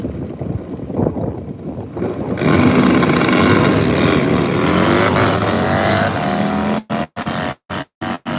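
A drag racing motorcycle at a raceway roars loudly and continuously, a sustained engine blast swamped by heavy wind buffeting, then cutting out in choppy bursts near the end.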